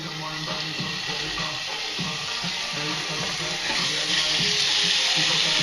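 Meat sizzles steadily in a frying pan with olive oil, a loud, continuous hiss that builds slightly toward the end, with faint kitchen clatter beneath.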